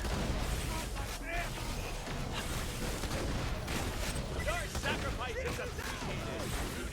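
Torgue shotgun fire in the shooter Borderlands The Pre-Sequel booms in rapid, dense blasts with explosive impacts, continuous and loud, while someone talks over the barrage.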